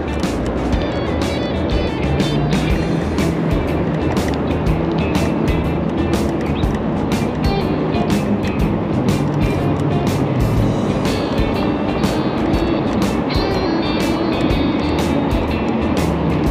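Busy road traffic rumbles past a cyclist, a dense, steady wash of engine noise and wind that stays loud and unbroken throughout, with no talk.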